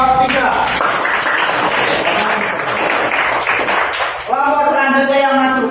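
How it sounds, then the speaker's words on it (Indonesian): Classroom applause for a student group at an Indonesian elementary school, a dense patter of small hands clapping close by for several seconds, fading before a voice starts talking at the end. "Tepuk tangan buat kelompok 3."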